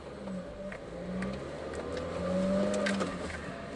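Cabin of a 2003 Pontiac Vibe GT in third gear at low speed, with a steady engine drone and faint whine rising slightly over road and interior noise, no talking.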